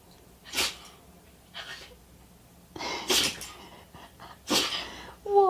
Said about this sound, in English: That was quite a sneeze.